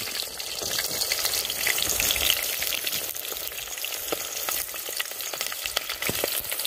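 Chillies frying in a hot pan for grey jungle fowl curry, with a loud, dense, continuous crackling sizzle up close and occasional stirring scrapes.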